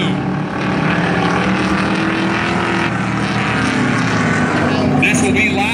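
Eight-cylinder race cars roar around an oval track at Valley Raceway during a heat race, a dense, continuous engine drone filling the clip, loud and steady, with an announcer talking over it.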